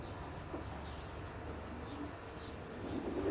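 Show pigeons inside a Glasgow loft section, faint soft cooing and low rustling in a quiet indoor space, with a slightly louder scuffle near the end.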